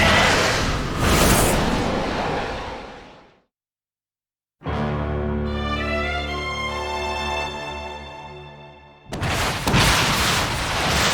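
Fireworks exploding in the DragonAut 2 video game: a loud burst that cuts to silence, a bright ringing tone that slowly fades, and then another sharp blast.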